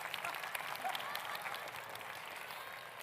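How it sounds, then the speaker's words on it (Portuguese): Steady applause from an audience, a dense wash of clapping at moderate volume that continues without a break. "Palmas para a Microsoft."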